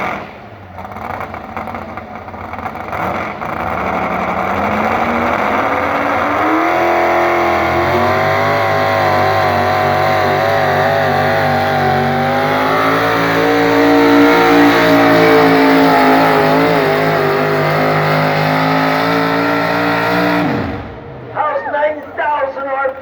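A high-horsepower modified pulling truck engine revs loud and close, climbing and holding a strained, rising roar for about twenty seconds at a county fair truck pull before cutting off abruptly, with a brief crackle afterward.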